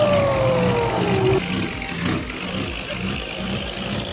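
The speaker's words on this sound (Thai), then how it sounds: "ฟังเสียงโบนหวานไปเรื่อยครับกับเสียงท่อ" A purple Isuzu truck in a truck-driving video game revs its engine and exhaust, a loud, continuous drone with a falling whine at the start that settles into a steady rumble.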